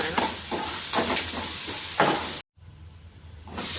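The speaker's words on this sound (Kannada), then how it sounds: "ಚೆನ್ನಾಗಿ ಫ್ರೈ ಮಾಡೋಣ." Chana dal, curry leaves and onion sizzling in hot oil, a steady crackling hiss with rhythmic stirring scrapes, cut by a sudden brief silence before the frying resumes.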